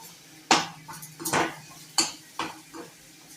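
Salted karela (bitter gourd) filling being mashed in a pan: a series of about five sharp scraping clanks of a utensil against metal, spaced irregularly over a quiet background with a faint sizzle.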